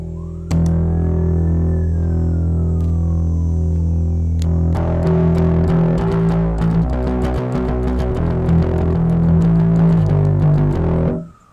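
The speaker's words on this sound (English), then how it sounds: "I have 2 distortion pedals. We'll start with the bass Big Muff." A sustained, fuzzy distorted bass guitar note through a Big Muff bass distortion pedal drones, then gives way to a rhythmic run of heavily distorted, gritty bass notes played loud and close.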